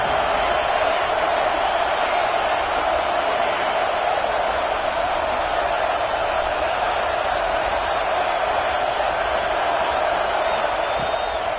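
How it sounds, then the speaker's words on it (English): A college football stadium crowd makes a steady, dense roar of cheering in the early going, loud and sustained throughout with no clear breaks. "Listen to the crowd energy here in the early going."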